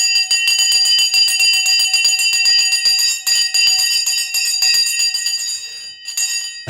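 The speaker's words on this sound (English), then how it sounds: "The bell has gone." Stock market closing bell ringing continuously as a loud, bright, rapid metallic clangor with a few short breaks, then fading out at the end, alone with no talk.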